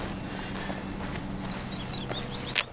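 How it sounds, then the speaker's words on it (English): Willow warbler singing on a golf course among heather, a series of faint, high, sweet descending phrases repeating over steady outdoor background noise, with a brief louder rustle near the end. "A willow warbler is lovely as a compensation."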